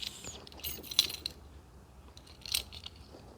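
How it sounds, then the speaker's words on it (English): House keys jangle close by in a few soft, brief metallic clinks and rattles against quiet room tone, with no talking. "Then I have my keys from my house."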